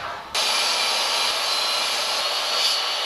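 A power saw starts abruptly and runs steadily, a loud, continuous whining buzz as it cuts through wood.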